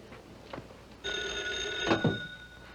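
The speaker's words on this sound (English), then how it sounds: "Excuse me, I'll have to get the phone." An indoor telephone bell rings in one sustained, bright, metallic burst lasting nearly two seconds, moderately quiet with a couple of faint bumps before it.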